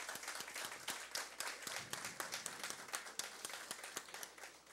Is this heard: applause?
yes